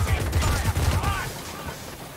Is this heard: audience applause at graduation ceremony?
no